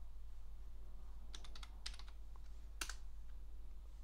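A computer keyboard is typed on to enter a terminal command on a Debian Linux system: short irregular bursts of key clicks, fairly close and quiet, over a steady low hum, with no talking.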